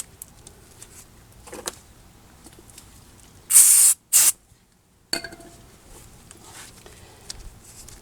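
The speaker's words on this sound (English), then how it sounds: "Just trying to not get any of that brake clean into my new slide pins that are all freshly greased up." Brake cleaner sprayed from an aerosol can onto the rear brake parts of a 2001 Chevy Silverado 1500 4x4: one loud hissing burst, a short gap, then a second quick spritz, over a quiet garage.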